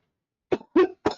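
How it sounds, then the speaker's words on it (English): A person coughs three times in quick succession, sharp and close, with silence in between. "coughing. I've been cleaning up my freaking lungs"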